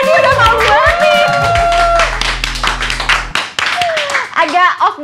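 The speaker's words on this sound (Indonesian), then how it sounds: "Boleh tepuk tangan, dia udah mau banget." An audience claps along to the beat at a live event with music, the rhythmic hand claps mixed under a singing or rapping voice and a deep bass tone. The crowd noise is loud and close.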